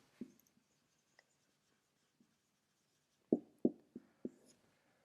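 Pen or chalk strokes on paper during a math proof, several sharp, close taps and scrapes spaced apart, with a cluster of four quick marks near the end in an otherwise quiet room.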